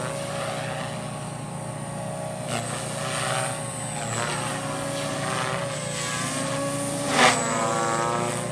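A 300X RC helicopter flies at a fun-fly event, its steady high-pitched rotor whine and motor drone running continuously, shifting slightly in pitch as it maneuvers, fairly near with no talking.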